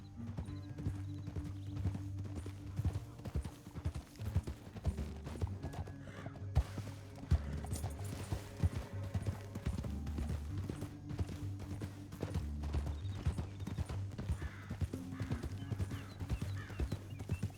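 Steady clip-clop of horse hooves galloping in a rhythmic pattern in the video game Red Dead Redemption 2, continuing throughout over a low droning background.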